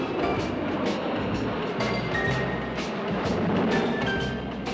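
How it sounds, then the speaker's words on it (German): A train rolls through a Berlin residential neighbourhood in the Schillerkiez, Neukölln, heading for the technology museum, giving a steady, fairly loud rumble with light rail clatter that runs the whole time and no one talking. "manchmal fährt mitten durch den Kiez ein Zug auf dem Weg ins Technikmuseum"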